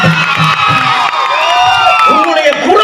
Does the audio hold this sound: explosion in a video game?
no